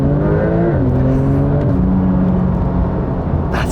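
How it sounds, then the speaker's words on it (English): A Porsche 911 Turbo S launching hard from a standstill, engine roaring loudly and climbing in pitch through quick gear changes, close and continuous with no talking. "when you do a launch, leave it in D, left foot on the brake, right foot on the accelerator, let the car do the work."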